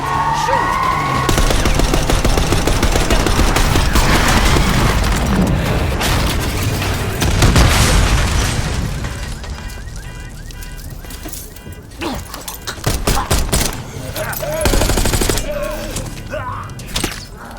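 Call of Duty: Black Ops 6 combat erupts with dense machine-gun bursts, booming explosions and shattering impacts, loud and continuous at first, then thinning into scattered shots and thuds, with shouted voices mixed in.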